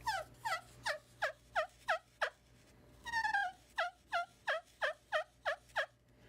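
Turkey friction call played with a soft cedar striker, a rapid rhythmic run of yelps followed by a short purring roll and another even series of clear, mellow notes.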